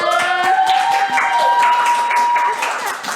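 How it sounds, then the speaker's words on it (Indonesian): Audience applause at a talk on free rice meals in Jogja, a dense steady clapping from a crowd that runs the whole stretch, with a voice speaking over it. "boleh beri tepuk tangannya"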